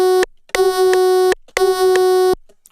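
A synth patch built in Serum with light harmonics plays two sustained, buzzy tones of about a second each, loud and clean with a bright harmonic stack, separated by short gaps of silence.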